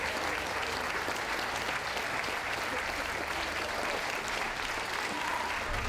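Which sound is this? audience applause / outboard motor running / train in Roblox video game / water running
audience applause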